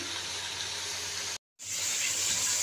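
Onions frying in a pan for a baingan masala, a continuous close hiss and sizzle that cuts out briefly and resumes slightly brighter.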